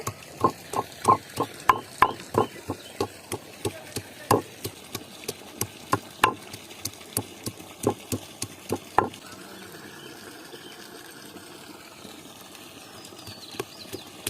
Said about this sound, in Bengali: এবার আমগুলোকে খুব ভালোভাবে থেতো করে নেব